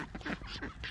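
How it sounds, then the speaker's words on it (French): A pet duck named Donald quacks in a quick run of nasal, raspy calls while eating watermelon, close by and fairly quiet. "Tiens, mange ça mon canard."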